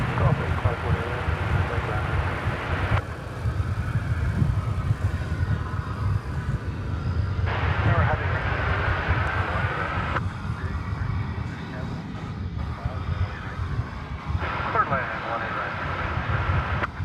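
A jet airliner passing at DFW Airport, a loud continuous engine roar and rumble that swells and fades in waves across the whole stretch, with a person talking over it.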